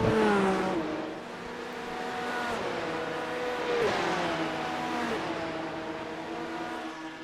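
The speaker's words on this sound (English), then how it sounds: "The car behind me is right on top of me, and Rajah Caruth is just pulling away" Race car engine in a NASCAR racing video game, whining through several gear shifts with dips and climbs in pitch, steady and moderately loud, with no talking.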